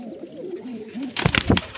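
Pigeons on a pigeon farm in Bangladesh coo in low, repeated rolling calls. A sudden burst of wing flapping and scuffling follows near the end.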